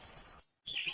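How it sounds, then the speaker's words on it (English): A bird chirps in quick high warbling tweets, broken by a brief silence before another short burst. "bird"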